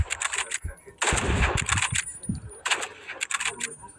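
Sniper rifle shots in the shooter game Rivals, a few sharp gunfire blasts with a loud burst near one second, mixed with game effects and a faint voice.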